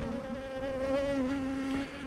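Honey bees buzz around a nuc hive that has just been split. The close, steady buzzing comes alone, with the wingbeat drone wavering slightly in pitch.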